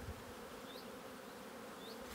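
Honey bees in a packed apiary hive drone in a dense, even buzz that holds steady throughout, close and alone.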